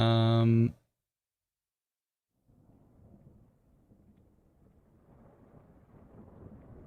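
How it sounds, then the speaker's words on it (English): Distant thunder from severe supercell storms, a soft low rumble that rolls in after a brief tone and silence, growing slightly toward the end and staying faint in the background. "if you can hear the lightning and the thunder"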